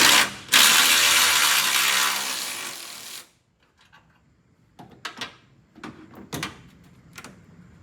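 A ratchet working a 13 mm top bolt on a Chevrolet Colorado or GMC Canyon radiator, a sustained loud whir followed after a pause by several short clicking bursts, close and with no talk.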